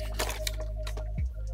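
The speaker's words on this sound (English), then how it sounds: "I'm just eliminating the water that's behind this film" A soft-bladed squeegee pushes water out from behind tint film on a Tesla side window, giving a few brief, close wet squishes and a low squeak over a faint steady hum.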